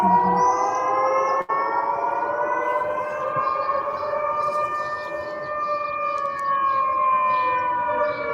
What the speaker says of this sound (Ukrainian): Сирена орет.